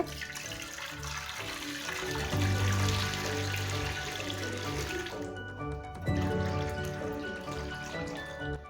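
Rice water pouring steadily into the center of a clay dosa pan, a continuous splashing gurgle that swells and shifts in pitch as it fills, with no voices.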